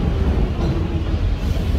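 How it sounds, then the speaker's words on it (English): A train passes close by, a loud, dense low rumble and rushing roar that holds steady and unbroken throughout, with no voices. "Listen to the sound of the train blowing up like a bomb."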